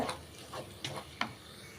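A sweet chana dal filling being stirred in a pan as it thickens, with soft irregular scraping strokes and a light sizzle, fairly quiet and without speech.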